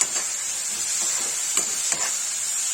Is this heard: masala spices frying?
yes